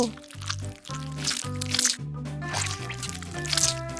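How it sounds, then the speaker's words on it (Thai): Crunchy food being bitten in a few sharp, crackling bursts, fairly close, over steady background music. "เอาล่ะได้เวลากินกันแล้ว"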